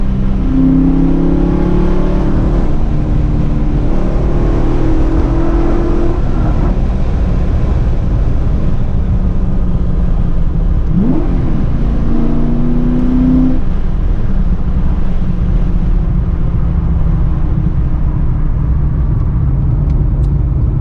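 A loud, powerful tuned Corvette V8 engine revs hard repeatedly, reaching redline, its roaring pitch climbing and falling in surges over a constant deep rumble, close and continuous.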